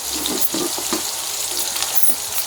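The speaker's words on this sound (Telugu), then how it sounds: "ఇప్పుడు తొందరగా వేగిపోతాయి అన్నమాట" Small dried fish and tomatoes with turmeric and salt sizzle steadily in a hot pan, a dense continuous hiss and crackle at close range.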